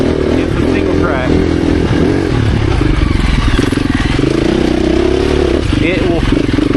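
A 2024 KTM 350 EXC-F dirt bike engine drones steadily and loudly while riding off-road on single track, with a voice talking over the constant mechanical roar throughout.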